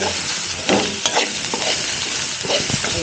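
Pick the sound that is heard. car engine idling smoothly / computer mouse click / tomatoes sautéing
tomatoes sautéing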